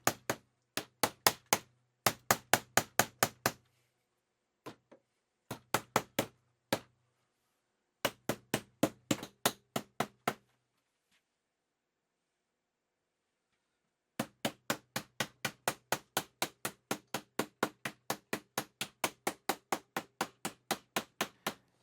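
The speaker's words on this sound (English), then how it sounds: "I could take this hammer to it and hammer it down" A hammer knocks LEGO bricks down onto a build, landing in quick bursts of sharp, close taps separated by short pauses, then a long steady run of even blows at the end.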